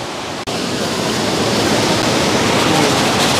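A waterfall roars in a loud, continuous broadband rush from close by, broken only by a split-second dropout near the start.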